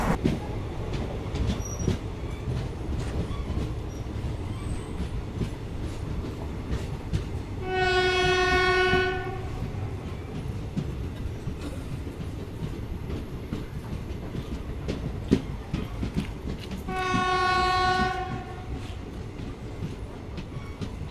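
Kalindi Express passenger train pulling into Kannauj station, a continuous rumble of wheels and carriages with two long, loud horn blasts separated by several seconds, rail clatter throughout.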